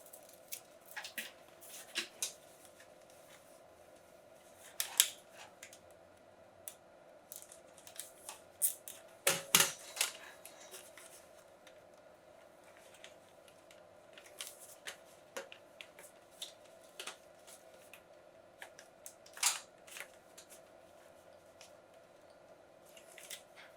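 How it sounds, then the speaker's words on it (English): Scissors snip the excess ends off zip ties fastened on a DIY fishing kayak light mount, giving sharp scattered clicks and cuts, one louder cluster near the middle, close and otherwise quiet. "Now we'll snip the ends off."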